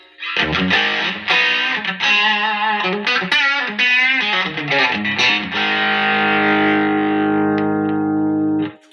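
Electric guitar through a Vox AC30 amp with reverb plays a run of chords and notes, then a final chord rings out long and sustained.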